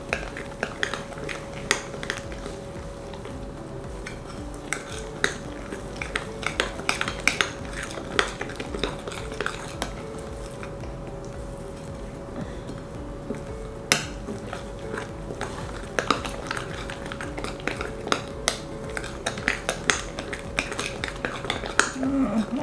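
A spoon scoops thick muffin batter and clinks against a mixing bowl in a home kitchen, with scattered light taps and scrapes over a steady low hum, fairly close and moderate in level.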